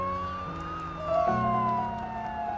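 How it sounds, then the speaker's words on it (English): A fire engine siren wails loudly as the truck comes round a corner, a steady sustained tone that jumps in pitch about halfway through and carries on over rumbling traffic, with no talking. "A fire engine came round the corner."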